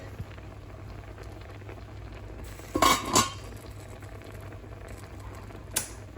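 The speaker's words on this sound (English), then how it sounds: "we're going to cover it with the lid" A metal lid set onto a cooking pot while olive rice with chicken cooks: a couple of quick clanking, rattling contacts close by, then a faint later clink, over a low steady background hum.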